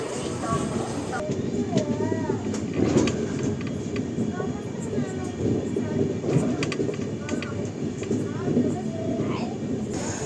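The Cuddalore Mysore Express rumbles along near Tiruchirappalli, a continuous rolling drone of wheels and carriages with rhythmic clatter and occasional squeals, while a voice talks over it.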